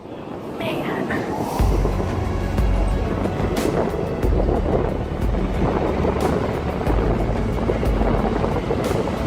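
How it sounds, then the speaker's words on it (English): Waves crash on a volcanic sand beach. A loud, continuous low roar of surf swells and recedes in heavy rushes, and voices are audible underneath. "the crashing waves here are quite unpredictable and can be dangerous during bad weather"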